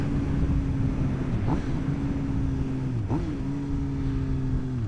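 A 2025 Suzuki GSX-R 750 motorcycle engine hums steadily during slow riding, with two brief rising blips as the rider rev matches between gears, under wind buffeting.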